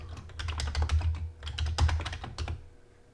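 Command being typed on a Commodore 64 keyboard: a quick run of close, clear key clicks in uneven bursts with short pauses, then the keys stop near the end.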